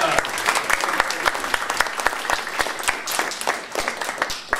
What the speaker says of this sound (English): So round of applause for LaTanya!